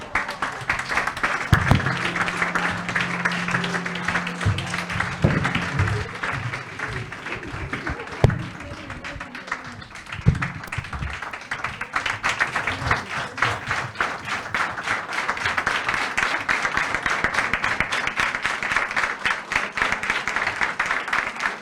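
An audience applauds at a World Head Injury Day event with dense, sustained clapping, some loud isolated claps, and a voice speaking briefly near the start.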